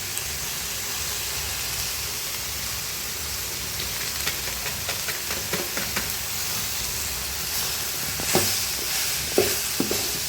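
Spices and chillies sauté in a pan for kuzhambu, giving a steady, even sizzle throughout. Light scraping and stirring clicks come in midway and grow a little louder toward the end.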